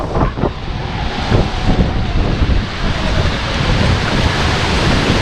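Strong, steady wind roars across the microphone for the whole stretch beside an RC boat run, a broad rumbling gust noise mixed with the wash of choppy water.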